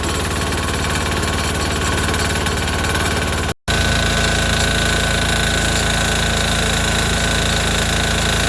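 A Sears Suburban tractor's 6 HP diesel engine runs steadily and loud at close range, a dense knocking drone broken by one brief cutout before resuming unchanged.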